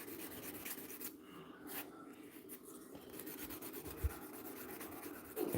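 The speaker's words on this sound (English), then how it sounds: "Let's try sanding it." A glue-filled eggshell model is sanded by hand, giving soft, faint scratchy rubbing strokes in an uneven rhythm, close up and quiet, with a couple of small knocks.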